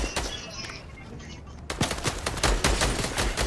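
Video game gunfire in rapid bursts, a quieter stretch of scattered shots giving way to dense, louder volleys in the second half, with no talk over it.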